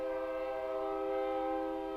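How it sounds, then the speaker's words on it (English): A train horn sounds beside a junior college baseball field, holding a steady, sustained multi-tone blare for the whole stretch at moderate distance, with no voices over it. "here comes the train"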